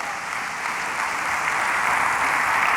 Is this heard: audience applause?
yes